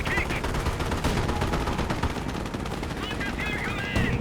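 In the Company of Heroes 1 real-time strategy game, a US 2-2 autocannon fires rapid, sustained bursts over battle din, loud and dense, while a voice commentates underneath.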